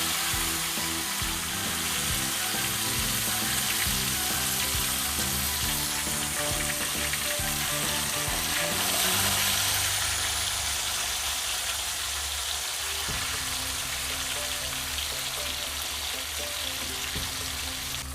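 Fish pieces frying in a pan during village-style cooking, a dense continuous sizzle and crackle held close and loud for the whole stretch, with a few faint clinks and shifts partway through.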